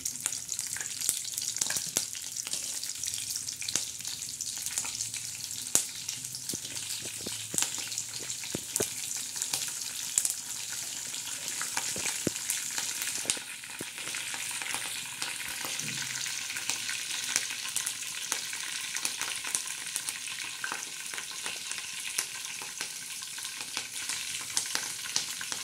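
Cumin seeds and curry leaves sizzle in hot oil for a bitter gourd dish, making a continuous bright crackling hiss with sharp spattering pops and occasional stirring scrapes; no voices.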